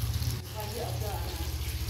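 Battered rat frying in hot oil, a dense, steady crackling sizzle up close with a low hum underneath, while people talk over it.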